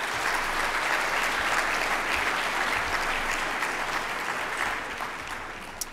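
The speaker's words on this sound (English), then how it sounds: "Can we have another round of applause for all the award winners?" Steady applause from an audience at the 2023 Rolex Junior All America Awards banquet, sustained clapping that fades slightly toward the end.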